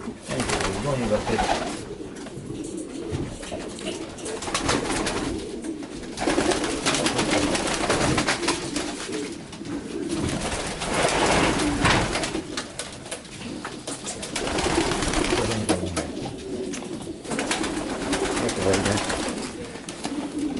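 Racing pigeons cooing in their individual loft cells, a steady chorus of soft, throaty coos close by, repeating throughout with someone talking over them at times.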